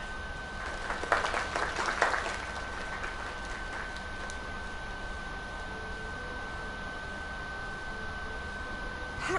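Crowd applause in the video game Lake, a burst of clapping early that thins out into a lighter patter over a steady hiss and a faint tonal hum.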